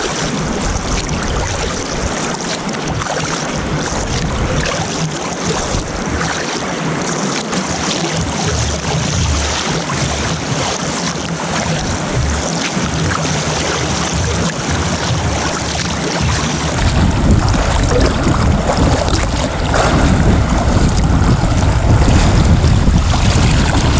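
Strong wind gusts across Lake Superior from a boat off Isle Royale, a continuous loud rushing roar. Microphone buffeting and water noise swell toward the end.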